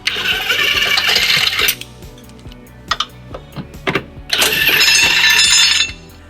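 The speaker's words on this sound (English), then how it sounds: "It's held in by 2 screws that we'll remove using a 14mm socket." A 14mm socket on a ratchet removing the tow hook screws on a 2010 Toyota Highlander, heard as bursts of rapid, close metallic ratcheting at the start and end, with scattered clicks and taps between.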